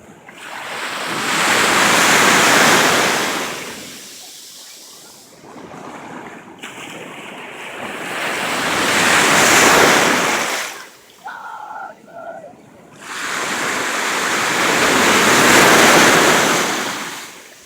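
Ocean surf at sunset rolls in as three long, loud swells that build and fade, with wind buffeting the microphone and a brief lull between waves.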